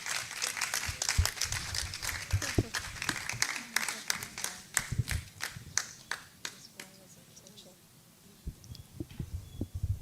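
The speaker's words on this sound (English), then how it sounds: "A round of applause, please." Audience at a book launch gives a round of applause, scattered claps dense at first then thinning out, with low thumping music or hum underneath.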